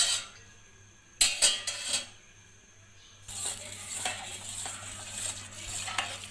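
A spoon stirring milk in a pan over high heat, close clinks and scrapes against the metal followed by a steady soft swirling and rubbing, with a faint hum underneath and no talking.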